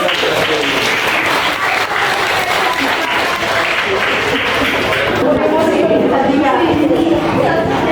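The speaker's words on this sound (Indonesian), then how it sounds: "Tepuk tangan untuk kelompok." Students in a classroom applaud a group during a lesson, a loud, continuous round of clapping with chatter and voices underneath for the whole span.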